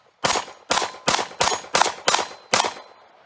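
Seven sharp shots ring out from a Spanish Star Model BM 9mm pistol at a range, evenly spaced, loud and close, each followed by a brief echoing tail.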